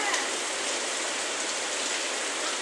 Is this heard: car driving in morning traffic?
no